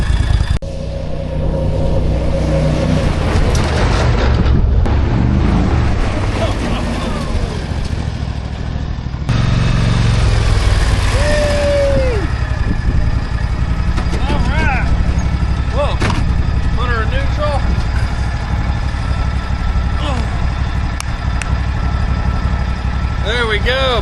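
A small off-road buggy engine runs steadily outdoors on a spring day, a continuous loud rumble with occasional revs, heard up close throughout.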